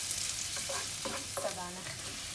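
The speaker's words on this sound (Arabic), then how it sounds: "هلا بضيف بصلة صغيرة مع ثوم" Onion and garlic frying in butter and oil for a chicken crepe filling: loud continuous sizzle with several stirring strokes scraping the pan, close and steady, no speech.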